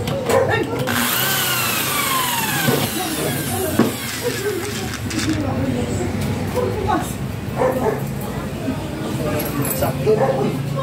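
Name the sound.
power drill driving a screw into an aluminum awning window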